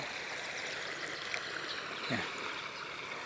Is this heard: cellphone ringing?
no